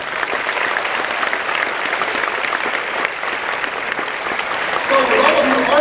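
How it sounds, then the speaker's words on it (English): An audience at an awards ceremony applauds a jazz band, a dense, sustained roar of clapping hands that holds steady throughout, swelling slightly at the end. "please give them a round of applause"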